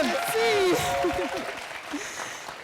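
Applause from a lively television studio audience runs under a voice speaking close to the microphone, a brief, steady wash of clapping that tapers slightly.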